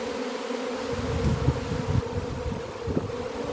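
Thousands of swarming honeybees hum around a hive entrance in a forest garden. The drone is thick and continuous, with small rustling thumps near the microphone and a light touch of wind.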